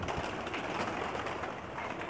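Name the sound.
flying pigeons cooing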